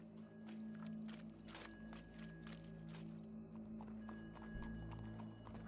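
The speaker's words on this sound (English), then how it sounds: "Go brush that horse, officer." Horse hooves clip-clop at a walking pace in Red Dead Redemption 2, a steady series of moderately close steps over a constant low background hum, with no talk.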